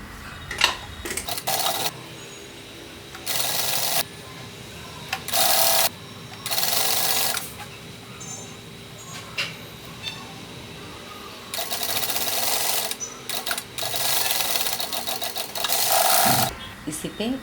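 Sewing machine stitching a four-dart blouse with belt, running in repeated bursts of a second or so, separated by pauses with faint handling noise and a quiet voice in the background.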